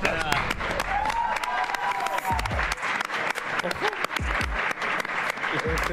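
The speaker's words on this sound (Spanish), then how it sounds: "Un aplauso." Applause and cheering from a crowd at a weigh-in event, with loud scattered claps, whistles and voices mixed in, bursts rising and dipping throughout.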